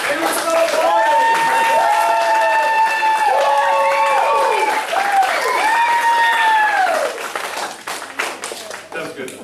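At a Mount Dora Family Martial Arts Center belt ceremony, the audience claps steadily while voices sound over the applause, which fades near the end.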